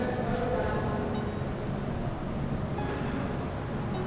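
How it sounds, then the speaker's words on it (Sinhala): The funicular train at Mtatsminda Park in Tbilisi gives a faint, steady mechanical rumble and track hum, a low continuous drone heard from some distance. "ඉතින් මෙතනට තමයි මේ ට්‍රේන් එක පල්ලෙහා ඉඳලා අපි හිතපු විදියටම උඩට එන්නේ."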